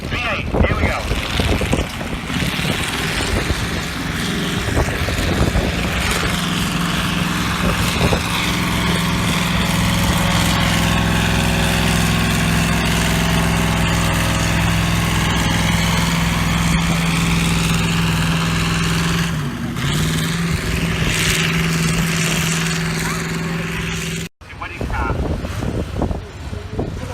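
A V8 tractor-pulling engine at a Castle Howard rally roars continuously and steadily, with wind buffeting the microphone, then briefly cuts out near the end before rumbling again.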